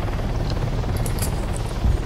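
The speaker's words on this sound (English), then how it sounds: "I'm flying in a helicopter, just getting really low to the ground, Garrett." A helicopter flies low to the ground in the military game Arma 3, its steady rotor and engine drone filling the scene continuously and loudly, with no talking.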